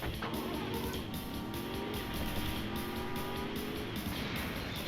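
Car driving in the Driver 2 video game, a steady engine drone with pitch sliding up and down as it accelerates, plus brief tire-squeal texture, moderately loud and continuous with no talk.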